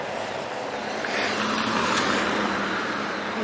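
Road traffic hums steadily at a roadside crossing near a mini market in Chayofita, Tenerife, a broad continuous wash of passing car noise that swells slightly midway.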